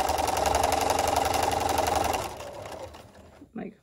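Sewing machine stitching along the outer edge of a face mask seam: a loud, fast, even mechanical whir that runs steadily, then slows and stops, followed by a brief soft clunk.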